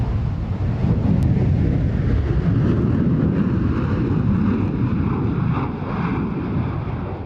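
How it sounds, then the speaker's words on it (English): Belgian F-16 fighter jet flying at the Air Fete 95 airshow at Mildenhall, a loud continuous jet roar rumbling with wind buffeting, sustained across the whole stretch and slowly shifting in tone. "This Belgian F-16 at Air Fete 95 was marked up to represent the 50th anniversary of its base"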